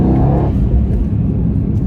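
A 2018 Mercedes-AMG E63 S pulling hard in third gear, a loud, close, rumbling engine roar that surges at the start and then carries on as a dense growl.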